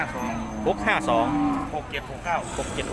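Cattle moo at a busy livestock market in Chiang Hwang, Thailand, with several long, nearby lowing calls overlapping one another and people talking in the background.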